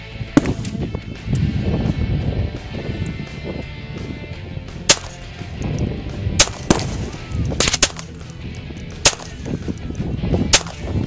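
A double barrel gun fires several sharp, isolated shots spaced seconds apart outdoors, cracking over a rough background of wind or handling noise.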